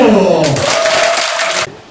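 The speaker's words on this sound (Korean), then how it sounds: "박수!" An audience in a lecture hall at a Buddhist university special lecture breaks into a short burst of applause lasting just over a second, loud and close, cutting off abruptly while a voice carries on underneath.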